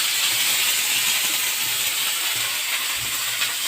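Onions fry in hot oil in a pan with a loud, steady hiss that stays even throughout, with a few faint low knocks underneath.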